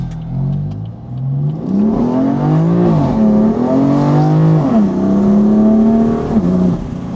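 A BMW M4 with a new downpipe exhaust revs hard up close, its engine note climbing and dropping through several loud throttle blips with a raspy, continuous roar and no voices.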